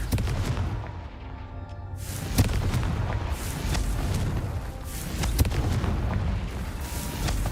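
Crackling explosive blasts from the Confringo spell in Hogwarts Legacy, a dense, rumbling wash of booms and bangs that keeps on with sharp peaks, loud throughout.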